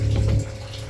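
Italian electric pump taken from a cultivator, circulating a mix of liquid fertilizer and water back to a corn seeder, gives a steady low mechanical hum with a louder surge in the first half second, then a continuous drone.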